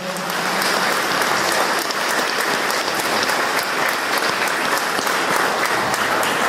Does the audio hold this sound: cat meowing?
no